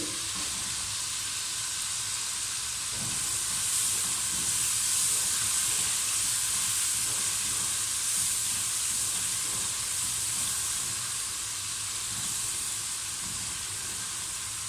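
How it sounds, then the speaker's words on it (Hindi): Dry spices tipped into a hot pot of oil for chana pulao give a steady, close sizzle and frying hiss that holds evenly throughout, swelling slightly midway, with no talking. "आपने खुश्क मसाले सारे इसमें शामिल कर देंगे।"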